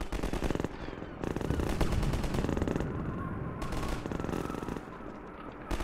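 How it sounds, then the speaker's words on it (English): Sustained rapid automatic gunfire in Half-Life 2, dense crackling volleys running almost continuously with brief lulls, moderately loud and somewhat distant in a busy combat scene. "Who's shooting who or what or why or when?"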